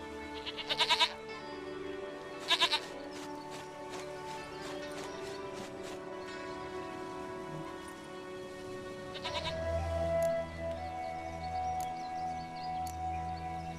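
In The Witcher 3, a goat lets out two short, loud bleats near the start over sustained game music, then soft hoof clops and ambient in-game sound continue without any speech.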